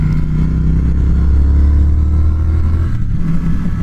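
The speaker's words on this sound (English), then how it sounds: "You can feel the motor running underneath you." A 2019 Triumph Speed Twin engine runs close by in a steady, loud, low rumble that holds an even drone throughout with a slight rise and fall, and no one speaks over it.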